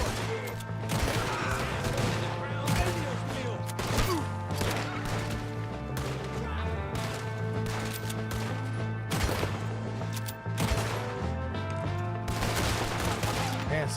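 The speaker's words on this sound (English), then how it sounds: "We got one shooting from the tower!" Rapid gunfire in Red Dead Redemption 2, a Wild West shootout with a shooter in a tower, sounds as dense repeated shots and cracks layered over steady music throughout, with voices calling out now and then.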